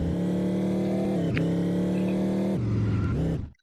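A car engine from the Chicken Gun video game, a steady droning hum with one brief shift, then a lower gear change before it cuts off abruptly, heard alone.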